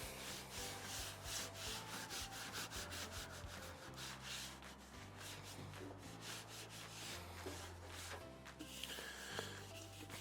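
Repeated rubbing and wiping strokes scrape across a grill dome in an uneven rhythm, close and fairly quiet, with no one talking.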